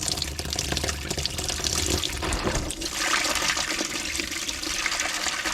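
Water gushes and splashes steadily as it drains out of the transmission of a 1957 Autocar semi truck, a loud continuous pour with no talk.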